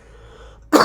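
A single sharp cough from a man with a cold, close and loud, coming after a moment of quiet room tone.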